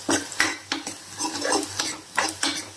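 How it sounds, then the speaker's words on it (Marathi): Garlic ginger paste cooking in hot oil, with a faint sizzle beneath repeated close clinks and scrapes of a spoon against the pan in an irregular rhythm, no voices. "आता याच्यामध्ये टाकत आहे मी लसूण अद्रकचा पेस्ट आणि आता याला तेलामध्ये छानपैकी होऊ देते"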